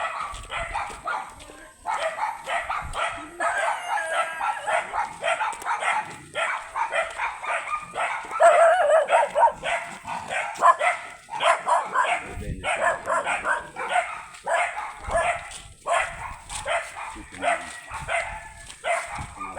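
Several dogs barking and yipping in rapid, overlapping bursts, close and loud, continuing throughout with little pause.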